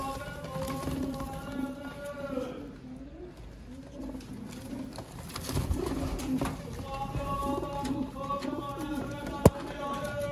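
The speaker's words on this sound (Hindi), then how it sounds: "ये है वो बटेरे जेनुइन असल कबूतर जिनका आपको शौक करवाया" Soft pigeon coos repeat in low, rounded phrases over a busy background of voices and shuffling, with one sharp click near the end, from Sialkoti pigeons.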